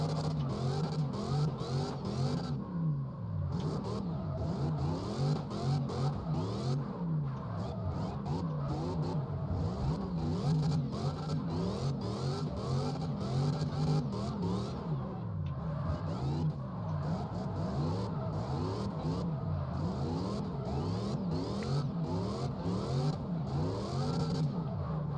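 A drift car's engine in CarX Drift Racing 2 revs continuously and loudly, its pitch sweeping up and down in repeated surges across the whole stretch with no talk.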